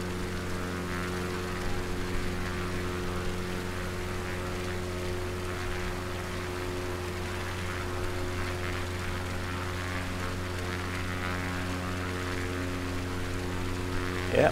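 Steady propeller aircraft engine drone in flight, a constant low harmonic hum holding level throughout with no talking.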